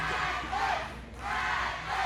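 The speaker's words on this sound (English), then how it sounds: "Here comes the crowd now, cheering for Atlas." A crowd at an independent wrestling show roars and cheers in two swelling waves. The sound is loud and dense, dips briefly between the waves, and has no clear speech.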